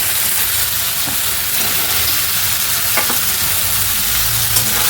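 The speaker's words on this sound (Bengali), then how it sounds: "এবার পনিরটা আমি মিশিয়ে নিলাম।" Paneer being stirred into a sizzling tomato and capsicum gravy in a pan, with steady frying hiss and a few soft scraping stir sounds throughout, near and continuous with no voices.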